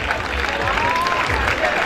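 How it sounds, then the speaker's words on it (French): Steady audience applause fills a dance battle final, a dense wash of clapping with crowd noise, continuous and fairly loud throughout. "Un maximum d'applaudissements pour les services sociaux."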